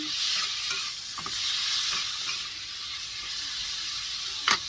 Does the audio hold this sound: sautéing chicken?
yes